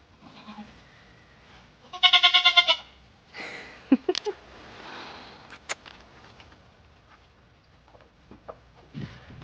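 Baby goats bleat in a loud, wavering burst at close range on a farm, followed by scattered softer bleats, rustling and sniffing noises.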